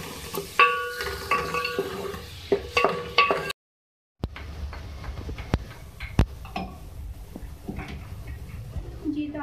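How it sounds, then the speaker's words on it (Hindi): Two medium onions frying in oil for a hotel-style sabzi, soft sizzling with intermittent clinks and scrapes of stirring, a brief silent gap midway, heard close with no talk over it. "यहाँ पे प्याज को मैं फ्राई करने के लिए रखा था"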